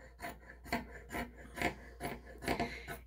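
Scissors cut through gingham fabric from upcycled old linens, giving a quick run of crisp rasping snips in an uneven rhythm, close and fairly quiet, with no voices.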